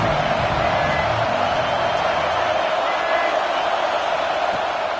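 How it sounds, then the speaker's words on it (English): A stadium crowd at a Navy versus Penn State college football game roars steadily and loudly for the whole stretch, a dense, unbroken wall of noise from the stands. "This crowd trying to make life miserable for this offense."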